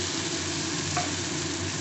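Masala paste and sour yogurt being stirred and sautéed in a pan for dhokar dalna, a steady soft frying sizzle with light scraping of the spoon, close and continuous with no talking.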